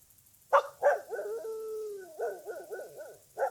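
A dog gives two sharp barks, then a drawn-out howl and a run of yelping, whining cries, ending with another bark; fairly close and alone.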